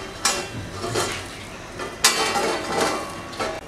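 A metal cover plate lifted off a hot dosa pan while making ragi (finger millet) dosa, giving a few sharp metallic clinks and scrapes at irregular intervals, close and fairly loud, with no talking.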